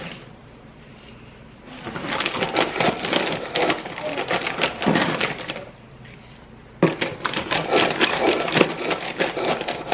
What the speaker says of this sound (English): With our OxiClean, and I'm going to stir these in here so that it's all mixed well.